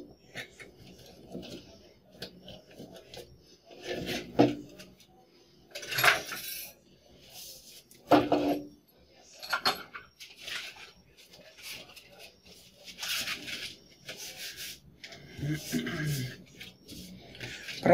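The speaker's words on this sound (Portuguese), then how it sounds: "A gente vai lixar o MDF até ele ficar do tamanho certinho da estampa" Sandpaper rubs across an MDF board in irregular scratchy strokes, coming in bursts of rasping friction with quieter gaps between them, close by and fairly soft, with faint speech in the background.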